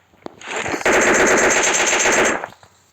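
Automatic rifle fire in the mobile battle-royale game PUBG Mobile, a sustained loud burst of rapid rounds lasting about two seconds after a few brief shots, with no talk over it.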